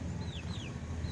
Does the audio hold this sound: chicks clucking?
yes